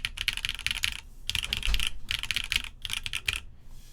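Custom Bias DE mechanical keyboard with SW Coco Black switches on a polypropylene plate and GMK Nerve Acero keycaps, typed in close, rapid bursts of clacky keystrokes separated by short pauses.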